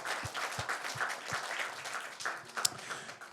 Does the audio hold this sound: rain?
no